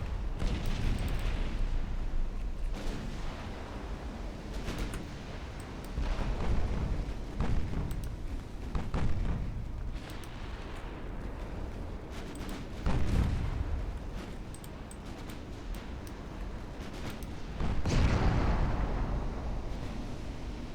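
Torpedo hits and explosions in a naval battle in the video game Ultimate Admiral Dreadnoughts, a continuous low rumble broken by repeated deep booms every few seconds.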